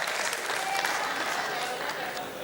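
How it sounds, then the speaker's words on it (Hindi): Audience at a Hindi poetry gathering applauding, a dense, steady burst of clapping from many hands lasting the whole moment, fairly loud and close. "एक बार उनके लिए जोरदार तालियां बजाइए एटा से।"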